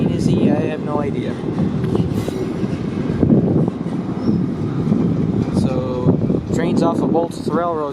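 CPKC 114, an intermodal freight train from Vancouver to Montreal, passes loudly and close with a steady rumble and wheel noise, while people talk over it throughout.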